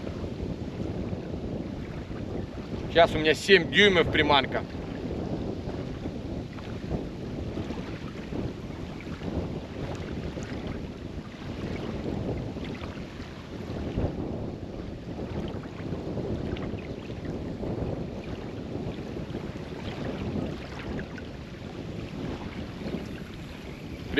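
Steady, gusty wind roaring across the microphone beside the water during bass fishing on Cyprus, a broad rumbling crosswind that never lets up, with a brief brighter rustle near the start and someone speaking over it.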